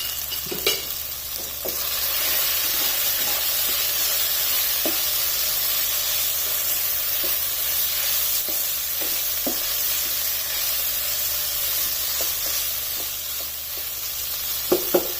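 Mutton keema sizzles loudly and steadily in a hot pan, with occasional scrapes and clicks as a spoon stirs it, continuous and close.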